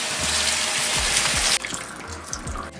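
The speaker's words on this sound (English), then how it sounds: "So we're just gonna take about a small handful. Go ahead and give it a rinse." Running tap water pours steadily over a small handful of fresh cilantro being rinsed for fried rice, a constant splashing gush that shifts in tone midway as the herbs move under the stream.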